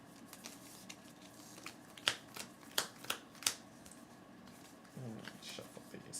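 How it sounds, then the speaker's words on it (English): Quiet riffling and a few sharp card snaps as a deck is shuffled, with soft handling noises between, close by and low in level. "Shuffle these up."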